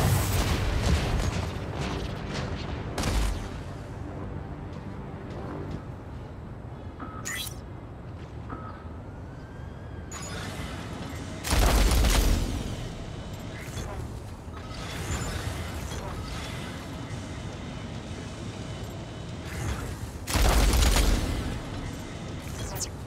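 Weapon fire strikes a mech in the video game Mech Arena, coming as several loud booming bursts between stretches of rumbling battle noise, while a synthetic voice gives short announcements.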